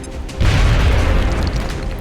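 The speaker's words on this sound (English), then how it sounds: "Grenade out." Frag grenade blast in the tactics game XCOM: Enemy Unknown, one heavy booming explosion that starts abruptly and then holds a rumbling, crackling tail. No voices.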